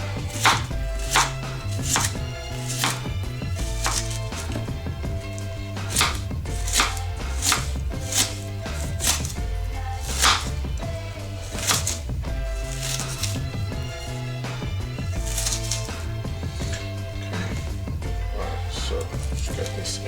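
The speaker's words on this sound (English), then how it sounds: "let me just quickly get this chopped up" Vegetables chopped for a Jamaican vegetable chilli stew peas: a brisk, steady run of sharp knife strikes on a board, close and crisp, over a layer of background music.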